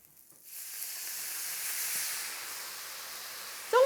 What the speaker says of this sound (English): Just to help it along, I am going to add a touch of chicken stock.